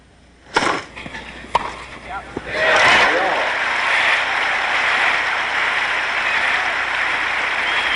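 A crowd applauds at the 1974 US Open tennis final between Jimmy Connors and Ken Rosewall, with a few sharp claps and cheers rising into sustained, steady applause from a large stadium audience.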